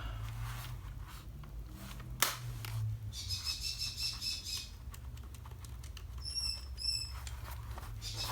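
Pet birds squawk and chirp in short bursts, a few bright high calls spaced out over faint background hiss, with a single sharp click partway through.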